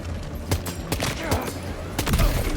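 Gunfire in the video game Death Stranding 2 comes as a quick string of sharp shots in irregular bursts, loud and close over a continuous background.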